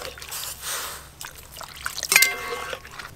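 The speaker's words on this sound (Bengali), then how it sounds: "খুব ভালো করে তেল দিয়ে চালতাগুলো নেড়ে নিয়েছি। এবার কিন্তু জল দেব," Water poured into a pan of elephant apple (chalta) fried in oil with salt and turmeric for a sour dish, a close splashing trickle that swells midway with a sharp sizzle before settling.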